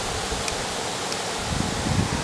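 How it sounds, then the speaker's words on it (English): Swift river water rushes over an old mill dam waterfall, a loud steady broadband roar that fills the scene with a faint low rumble rising toward the end. "that current's so swift there at the waterfall"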